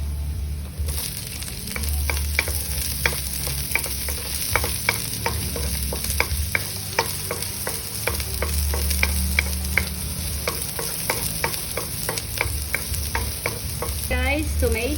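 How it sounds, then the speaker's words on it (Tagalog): Garlic and onions sauté in a hot pan, a constant loud sizzle broken by regular sharp spatula taps and scrapes against the pan, close and uninterrupted by any voice. "First, saute the garlic. Then the onions."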